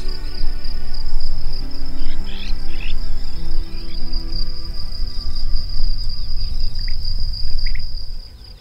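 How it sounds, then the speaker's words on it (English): Grasshoppers chirp in farmland grassland, a loud, steady high-pitched insect trill running throughout, with a few faint bird calls and a low rumble beneath. "The grasslands here are full of grasshoppers"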